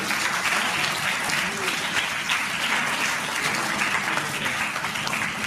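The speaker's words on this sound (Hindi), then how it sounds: "हमारे सभी गेस्टों के लिए एक बार दिल से ताली बजा दो प्लीज" An audience at a short film launch applauds the guests with steady, dense clapping that lasts the whole stretch, with some crowd voices mixed in.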